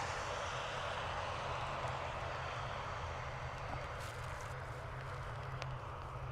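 ATR turboprop airliner taking off from Dublin Airport for Edinburgh, a continuous moderately distant engine and propeller drone with steady low hum and broadband wash, a few faint clicks near the end.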